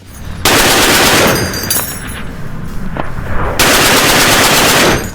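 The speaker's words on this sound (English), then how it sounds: "The GAU-8A Avenger isn't just a gun, it's a mechanical beast built for one job: obliterate armored targets with insane precision and speed." GAU-8A Avenger autocannon firing, a loud, continuous buzzsaw roar in two long bursts, near and overwhelming, with a quieter gap between them.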